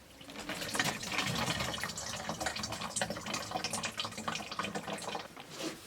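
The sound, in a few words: automatic gearbox oil dripping from Jaguar X-Type filter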